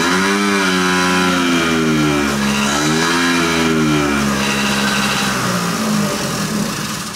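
A Kymco Vitality scooter engine, run without its air filter and with the choke disconnected, revs loudly under throttle, pitch rising and falling in repeated surges, close and continuous with no talk.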